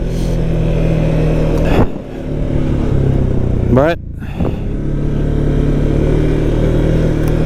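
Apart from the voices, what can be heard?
Can-Am Outlander 700 XT ATV single-cylinder engine revving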